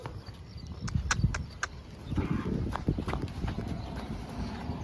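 Hooves of three heifer calves clop irregularly on a hard floor as they walk out of a cattle farm shed, a scatter of close footfalls with faint background noise.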